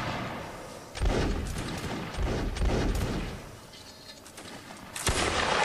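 Musket volleys in Mount & Blade: Napoleonic Wars, with several loud broadband bursts around one, two-and-a-half to three and five seconds, separated by rumbling, overlapping shots at a steady distance.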